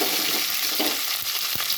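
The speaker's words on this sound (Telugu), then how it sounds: "ముందుగా తాలింపు వేసుకుందాం" Garlic, tempering seeds and curry leaves sizzle in hot oil, a dense continuous fry with a few sharp clatters of a spoon against the pan.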